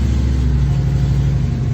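A 2001 Cadillac DeVille engine runs with a low, rhythmic rumble, close by and steady, as if just started and idling.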